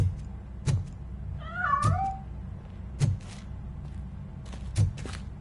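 A cat gives one drawn-out, wavering meow in the middle while escaping, surrounded by several sharp knocks or thumps spaced about a second apart, all close and without talk.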